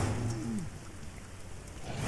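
Steady rain falls in the video game Rain, a soft continuous hiss of drops with a low background rumble, quiet and unbroken.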